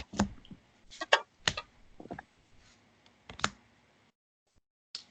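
Tarot cards being shuffled by hand, a few soft irregular riffling clicks and taps, close and quiet, alone with brief gaps of silence.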